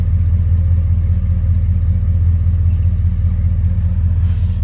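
A Dodge car engine idles steadily on a cold day with vapor drifting from the exhaust, a constant low, close rumble with no speech.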